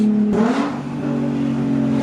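A diesel truck revs its engine in a loud, steady, close roar whose tone climbs briefly near the start before settling into a sustained drone.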